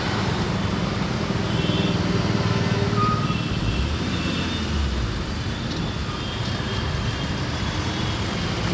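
Heavy road traffic in Mumbai, full of taxis, cars and buses, rolls past as a steady, dense roar with a low engine rumble swelling near the middle of the stretch.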